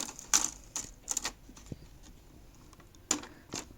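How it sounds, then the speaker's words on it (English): The plastic rim of a Dell Inspiron M4800 laptop snaps into place during reassembly, giving a handful of sharp, quiet clicks spaced irregularly over a few seconds. "When you position it in its correct place, you should hear the clicking sound."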